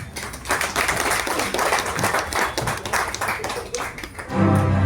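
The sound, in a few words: audience applause welcoming chief guest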